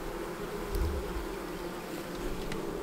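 Honey bees buzz steadily on a brood frame during a March hive inspection, a dense close drone that stays even throughout with no talking.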